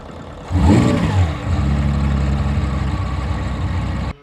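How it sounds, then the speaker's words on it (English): Porsche 917 race car engine cranking and catching, then revving sharply once before settling into a loud, throbbing idle nearby, cutting off at the end, with nobody speaking. "So this is the key to happiness, but really you gotta push the start button."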